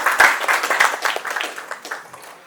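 An audience at the Bandra movie press meet claps for Dileep, a burst of dense applause that starts loud and gradually thins out and fades.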